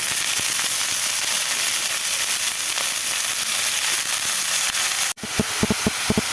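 Vegetables for a vegetable cutlet hit a hot pan with a loud, dense sizzling hiss that holds steady, then cuts out abruptly before scattered sharp crackles and spits return.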